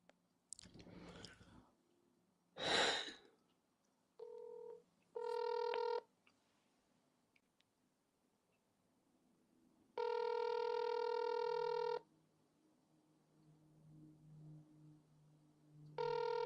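Phone number dialed on a telephone, a handful of distinct touch-tone beeps in short bursts, then a long steady tone, with a couple of clicks and handling noises between them, close and clear.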